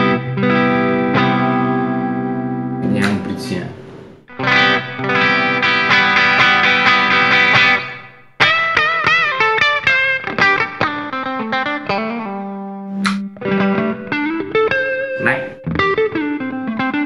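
A JS Guitar Telecaster-style electric guitar plays through a Bogner amp, ringing out sustained chords, then quicker picked notes and single-note lines, loud and up close with a touch of reverb and no talking.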